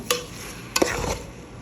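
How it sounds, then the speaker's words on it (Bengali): Washed rice stir-fried in a pot with bay leaf and cardamom for beef biryani, two sharp spatula scrapes over a low steady sizzle, close and without speech. "এখন ধুয়ে রাখা চালগুলো দিয়ে দিচ্ছি। চালটা এখন ভালো করে একটু কষিয়ে নিব।"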